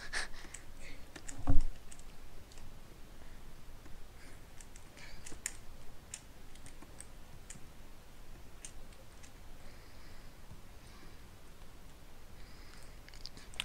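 Sparse, faint computer keyboard clicks in irregular taps, with one louder knock early on, over a low steady background hiss.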